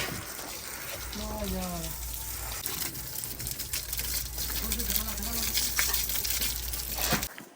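Water gushes from a water pump at a village house construction site with cement and bricks. A steady rushing flow continues throughout while people talk over it.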